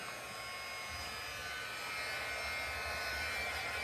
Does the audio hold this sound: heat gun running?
yes